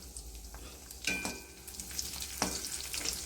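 Noodle ingredients frying in hot oil give a steady soft sizzle, with a few sharp stirring scrapes and clicks of a spoon against the pan, close by and with no voices.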